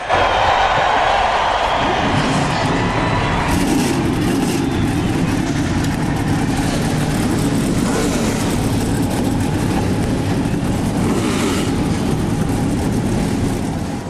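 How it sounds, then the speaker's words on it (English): NASCAR stock car engines fire up and rev together at the Daytona 500 in 2009, a dense, loud, continuous roar of many engines, with a crowd and announcer faintly underneath. "Gentlemen, start your engines."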